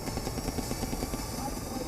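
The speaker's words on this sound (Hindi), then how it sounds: "बैटलफील्ड पर 2 अटैक हेलीकॉप्टर आए," Rudra and Apache attack helicopters over a battlefield, a loud, continuous rotor thrum with rapid rhythmic blade chop under a steady engine roar.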